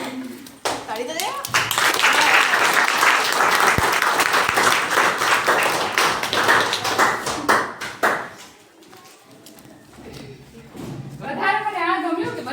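Students in a classroom break into loud, dense applause that lasts several seconds and then fades, with children's voices chattering before and after the clapping.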